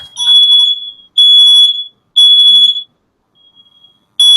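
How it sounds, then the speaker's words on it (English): A smoke or fire alarm sounds indoors in loud, piercing high beeps, three long blasts with short gaps, then a faint lull before another blast starts. "fire alarm. It's not going to turn off."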